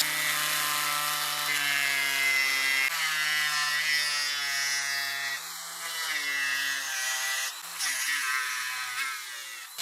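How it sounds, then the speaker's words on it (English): A rotary cutting disc grinds a slot into a wooden saltwater popper lure, a sustained high whine with steady tonal hum whose pitch dips and shifts as the blade bites into the wood. "And we'll take a disc and go ahead and cut the slot."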